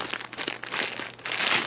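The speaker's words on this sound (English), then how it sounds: "which is taking a plastic bag." A plastic bag crinkles up close in quick, dense rustling bursts with brief pauses, loud and alone.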